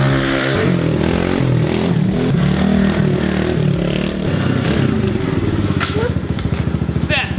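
A motorcycle engine runs steadily with its stock air box and stock jetting refitted, a loud continuous drone with a rough pulsing texture and a faster, choppier beat near the end, the rider talking over it.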